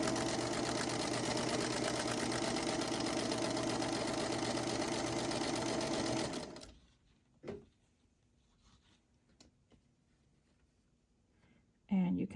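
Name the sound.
sewing machine stitching a quilt block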